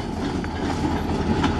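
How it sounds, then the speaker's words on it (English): A freight train of graffiti-covered box cars rolls past up close, a steady low rumble with faint clatter of wheels on rail, no voices over it. "First train in a few days."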